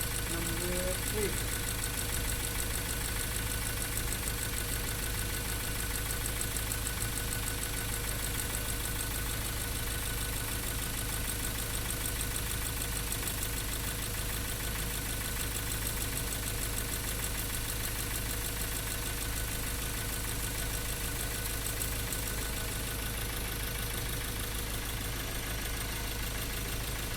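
A car engine with a misfire runs steadily throughout, a continuous rough mechanical drone that stays loud and close with no talk over it.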